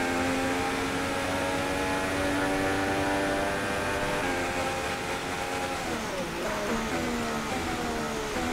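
A Formula 1 car engine in the F1 2016 video game, racing the Spanish Grand Prix in Barcelona, whines loudly and steadily, with its pitch dropping and climbing again as gears change midway.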